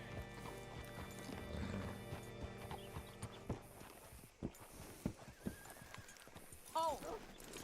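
Horse hooves in Red Dead Redemption 2 clip-clop in slow, irregular steps at close range with a short whinny near the end, over quiet game ambience and some talk.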